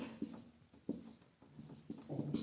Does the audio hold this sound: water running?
no